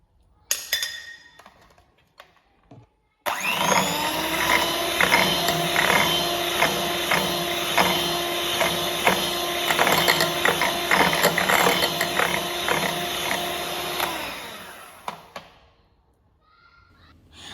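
Cake batter with vanilla essence and sunflower oil being beaten by an electric mixer or beater, a steady loud whirring drone with rhythmic clicking that runs continuously for about eleven seconds before stopping.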